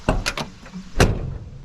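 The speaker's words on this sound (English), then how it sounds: "Close this door." Heavy door of a 1987 Ford F-series pickup truck swinging shut, a few quick rattling knocks followed by one loud, solid slam, close by with no talking.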